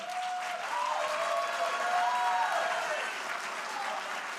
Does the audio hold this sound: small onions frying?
no